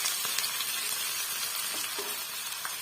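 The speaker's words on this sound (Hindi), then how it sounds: "प्याज जो हमारा हो चुका है तकरीबन ब्राउन, उसको शामिल करेंगे अपनी प्यारी सी दाल के अंदर।" Browned onions dropped into dal in a pan give off a steady, moderately loud sizzle and hiss, with faint stirring clicks throughout and no voices.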